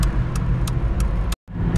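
Cars in a protest motorcade with hazard lights flashing pull away together, a steady loud rumble of engines and tyres close by, with regular faint ticking and a brief dropout near the end.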